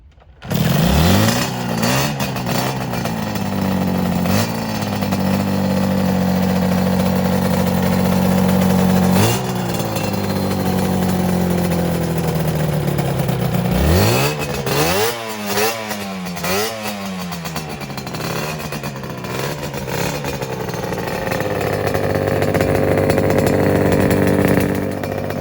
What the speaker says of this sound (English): Two-stroke sounds are so distinct,